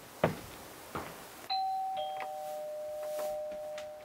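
A doorbell at a red summer cottage rings in clear tones, one sustained chime followed by a second, with a couple of soft knocks or taps just before.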